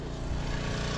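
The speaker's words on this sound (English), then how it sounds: "my tractor's getting warmed up." A tractor engine idles steadily while warming up on a snowy spring morning at a gold mining site, a continuous low rumble with a sputtering mower-like texture, close and alone with no talk.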